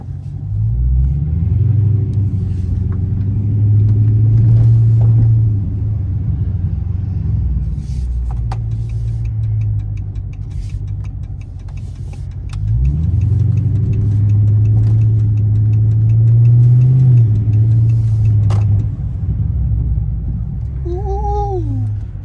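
A 2006-era style Chrysler 300S with a 5.7 Hemi V8 rumbles from inside the cabin while driving, its deep engine note rising in two long acceleration swells through gear changes.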